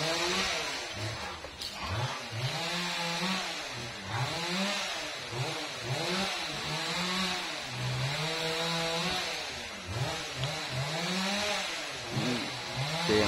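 A chainsaw cuts into a fruit-laden Thai jackfruit tree, its engine rising and falling in repeated revving surges as the blade bites the wood, steady and fairly close for the whole stretch.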